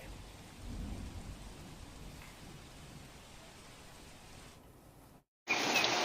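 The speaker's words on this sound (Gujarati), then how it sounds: "રાત્રે બાર વાગ્યાથી અવિરત વરસાદ ચાલુ થયેલ છે" Steady, dense rain pours continuously during heavy rains in Rajkot, with a low rumble underneath, ending in a brief silence and a sudden louder burst.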